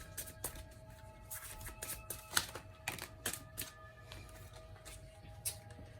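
Quiet, crisp clicking and riffling of tarot cards being shuffled, in irregular bursts of soft slaps and flutters, with no talking.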